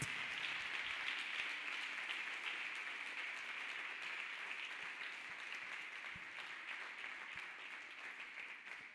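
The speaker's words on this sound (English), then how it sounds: "Let us clap hands beautifully for Jesus Christ." A church congregation claps steadily and continuously, a dense wash of applause filling the room for the whole stretch without pause.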